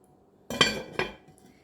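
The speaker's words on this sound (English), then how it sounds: "put the lid on and then put it in the oven" Two close, sharp clinks as a lid is set on a baking pot for pumpkin bread before it goes into the oven. The second knock follows about half a second after the first, and the room is otherwise quiet.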